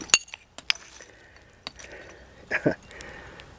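An intact glass drinking glass clinks in a few light taps while being dug out of an old bottle dump, faint and close against a quiet outdoor background.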